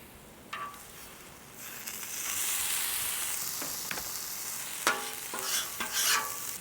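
Cheesesteak slider meat sizzles on a flat-top griddle under a dome, with a steady hiss and a few sharp scraping clicks as a spatula flips it, close and moderately loud.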